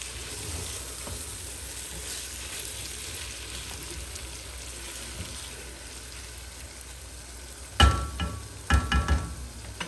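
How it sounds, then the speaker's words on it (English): Beef pilau ingredients fry in a pot with a steady, soft sizzle throughout. A few louder clatters and bumps come near the end, with no talking. "I will leave this to fry for like 10 minutes before I add anything else."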